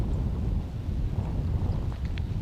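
Wind blows across an outdoor cricket ground at Cartama Oval in Spain, a steady low rumble of gusts buffeting the microphone at a constant level.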